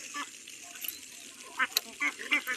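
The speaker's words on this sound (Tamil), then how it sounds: "அழகாக நிறையா வாத்து வருது" A large flock of ducks and ducklings passes close by, giving a cluster of short honking quacks that come in quick bursts toward the end over faint background hiss.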